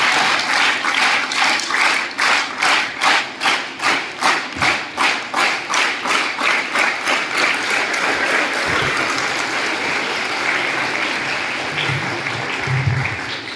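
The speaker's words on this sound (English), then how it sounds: "Please give a big round of applause for respected principal, sir." Loud school audience applause for the principal, starting as rhythmic unison clapping that loosens into a continuous scattered ovation, with a few thumps near the end.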